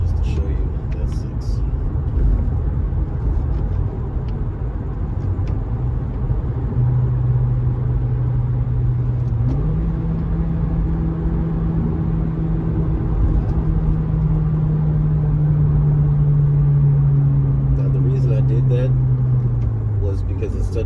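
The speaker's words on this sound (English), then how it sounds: "instead of using my brakes, I just decided to use the engine itself" A 2023 Acura Integra with a manual transmission slows under engine braking; a steady engine drone sinks gradually in pitch over road rumble, while a voice talks throughout.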